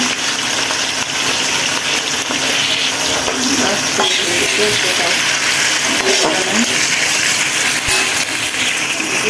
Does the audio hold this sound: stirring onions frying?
yes